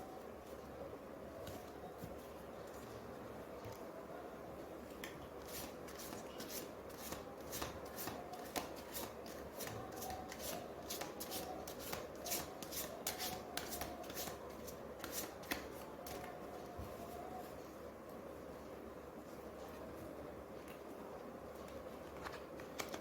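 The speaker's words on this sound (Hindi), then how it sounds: "चलिए मैं निकालती हूँ कुछ कार्ड्स" Tarot cards being shuffled by hand, a long run of quick crisp riffling and flicking strokes at close range, fairly quiet and with no talking.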